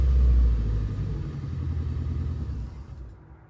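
A 2006 Scion xA junker, with an engine that stalls when the throttle is released, idles with a steady low rumble that holds close and loud before fading away near the end.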